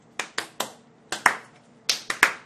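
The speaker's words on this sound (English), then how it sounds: "slow claps for bad rolls" Slow clapping during a Dungeons & Dragons tabletop game, seven sharp claps at uneven intervals, close and fairly loud, with no talking between them.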